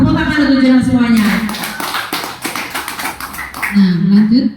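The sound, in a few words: audience clapping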